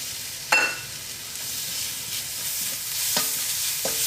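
Ginger garlic paste sizzles steadily in hot oil for a Kerala egg curry, with a spoon occasionally scraping and clinking against the pan over a continuous close frying hiss.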